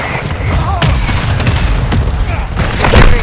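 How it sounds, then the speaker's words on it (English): Hostile mortar strike in Call of Duty: Modern Warfare 2: a continuous heavy rumble of booming impacts and low blasts, loud and dense, with a few sharper cracks mixed in. "Take hostile mortar strike incoming"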